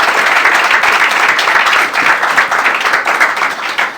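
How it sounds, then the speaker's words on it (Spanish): A church congregation claps in loud, sustained applause that fills the room for the full stretch, with no pauses. "Den un aplauso al Señor."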